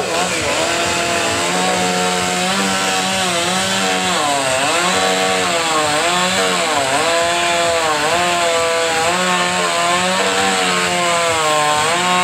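A chainsaw carving wood at a timed pro chainsaw artist show, the engine roaring loud and close without pause, pitch rising and dipping as the blade bites and eases, with voices faintly underneath.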